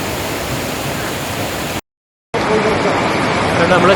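Floodwater roars loud and close across a river bridge linking Chooralmala and Mundakkai in Kerala after a landslide, a dense unbroken rush with a short cut partway through.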